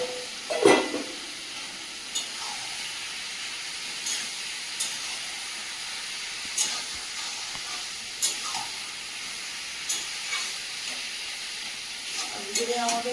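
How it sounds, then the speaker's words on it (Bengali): Marinated meat with sour yogurt and already-fried potatoes sautés in a pan, giving a soft hissing sizzle with a spatula scraping at regular intervals, close and moderate in level. "ভেজে রাখা আলুটাও এর সঙ্গে দিয়ে ভালো করে কষিয়ে নেব।"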